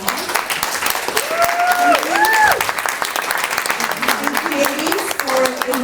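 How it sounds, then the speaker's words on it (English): An audience applauds panelists at a panel event, steady sustained clapping throughout, with voices speaking over the applause. "I want to give our panelists a big round of applause"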